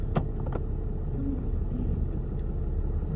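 A 2016 Ram 3500 pickup truck idles and rumbles steadily while being backed up, a constant low engine drone with a couple of brief clicks near the start.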